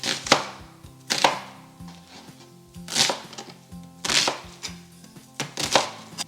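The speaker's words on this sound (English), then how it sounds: "let's chop up some veggies to toss into our roasting pan. Just going to go in with one onion." One onion being chopped on a cutting board for roast turkey vegetables, about six firm, evenly spaced knife thuds with short pauses between, close and clear, no talking.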